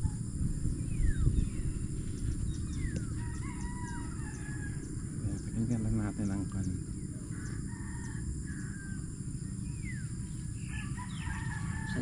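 Fighting roosters crow repeatedly from a moderate distance over a constant low outdoor rumble, several drawn-out calls spaced through the clip, with someone speaking softly.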